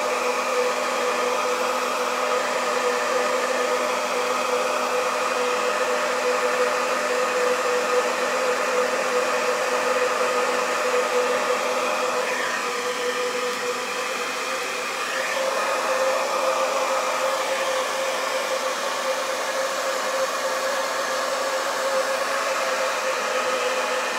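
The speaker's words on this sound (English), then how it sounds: "Put your blow dryer on hot." A blow dryer set to hot runs steadily and loudly throughout, used to warm stickers for a butterfly shadow box craft, with a brief dip in airflow midway and no talking.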